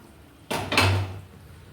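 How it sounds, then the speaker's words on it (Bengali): A lid lifts off a cooking pot in a home kitchen, a short metallic scrape and clunk followed by a brief ringing tone, close and alone. "এবারে ঢাকাটা খুলে নিলাম"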